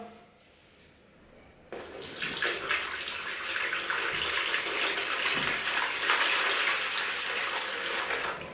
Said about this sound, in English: we're going to pour in a little bit of water